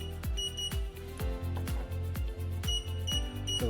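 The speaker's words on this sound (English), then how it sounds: "and the buzzer will still sound." A mobile DVR's buzzer beeps in a repeating pattern, roughly every half second, loud and steady with no talk, as it keeps sounding after a card swipe with an iButton reader.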